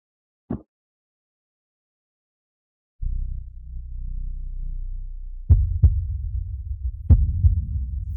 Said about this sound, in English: The heartbeat is indeed faster.